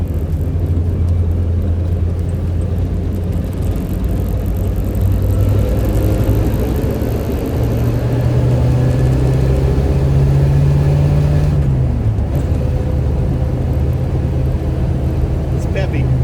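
A Suzuki Samurai with a swapped 2.0L engine on a test drive, heard from inside as a steady, loud low engine drone with road rumble and gradual rises in pitch as it accelerates, with a voice talking over it.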